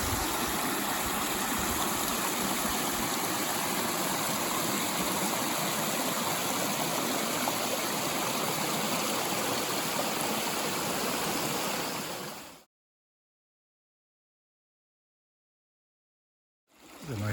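A creek beside a beaver pond on the Appalachian Trail rushes over rocks in a steady, close, broadband wash of water, then cuts off abruptly to silence near the end.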